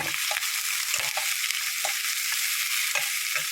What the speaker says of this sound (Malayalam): അരിഞ്ഞു വെച്ചിരിക്കുന്ന സബോള ഇട്ട് കൊടുക്കാം സബോള ഒന്ന് ഇളക്കി